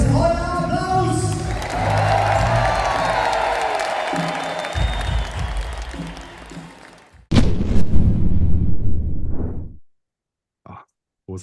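Concert crowd at a show in Leipzig, loud sustained applause and cheering that fades out, then a burst of cheering and noise before cutting to near silence with brief sounds.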